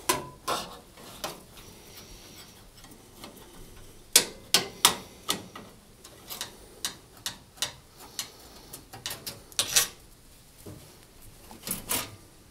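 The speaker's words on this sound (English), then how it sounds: "remove this vent grill at the back of the cooker by undoing the 6 screws" Screws are undone from the vent grill at the back of a cooker, giving a close sequence of sharp, irregular metallic ticks and clicks that grow more frequent midway.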